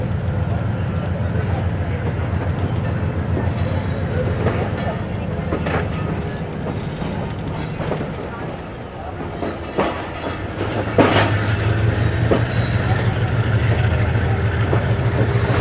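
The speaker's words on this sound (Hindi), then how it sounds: "Aahista Aahista train platform clear कर रही है और फिर आगे बढ़ेगी हमारी ट्रेन हैदराबाद की तरफ" The Karachi Express pulls slowly out of the platform heading toward Hyderabad, a low rumble with rhythmic clanks and wheel clicks building as it moves, with someone talking over it.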